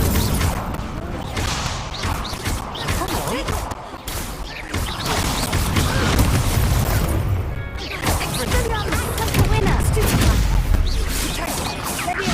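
Confringo blasting spells going off in Hogwarts Legacy during a dueling match, dense bursts and crashes layered over busy, continuous game effects.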